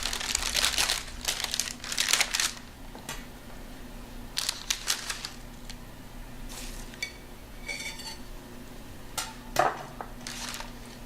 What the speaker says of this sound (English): So I just kind of carefully unwrap the salmon.